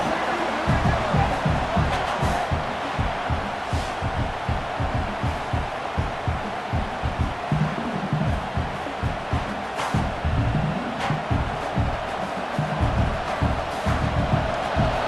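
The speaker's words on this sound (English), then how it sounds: "this crowd is fired up. Listen to this noise here" A College Football 26 stadium crowd roars in a loud, continuous wall of cheering and chanting, with rhythmic surges and pulses from the packed stands running throughout.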